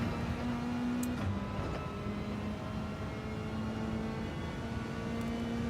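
A race car engine in Gran Turismo 7 drones at steady revs with a whirring tone, the pitch dipping briefly before settling, faint and continuous under a quiet background with no talk.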